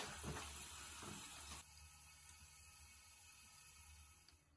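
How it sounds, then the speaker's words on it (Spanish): Toilet cistern refilling after the shut-off valve is opened, water rushing steadily into the tank with a continuous hiss, louder and fuller at first and then settling into a quieter steady flow, close and without speech. "Seguidamente abrimos la llave de paso y se pone a llenar la cisterna."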